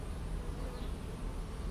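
Honeybees swarm around an open hive frame during a hive inspection, producing a dense, continuous buzzing drone that stays steady and fairly loud throughout, with no voices.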